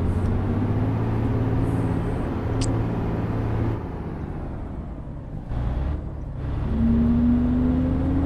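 A manual MAN bus engine in the OMSI 2 bus simulator video game drones steadily, then dips and climbs again in pitch as it is revved and accelerates, close and with no talking.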